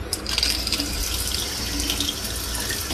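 Water runs steadily from a new faucet into a sink, a constant splashing hiss with no voices.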